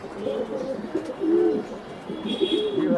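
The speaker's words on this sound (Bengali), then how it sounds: "এটা হলো জার্মান শিল একটা কবুতর।" German Shield pigeons and others at a pigeon farm in Mirpur coo in soft, repeated throaty phrases close by, with faint chirps mixed in.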